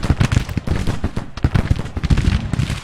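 Civil War musket gunfire in the Grand Tactician battle game: dense, continuous crackling volleys with overlapping pops and booms, loud and close, no talking.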